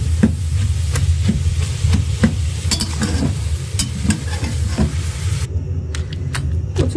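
Green chilies frying with taro greens in a pan, a steady close sizzle broken by regular spoon scrapes and knocks.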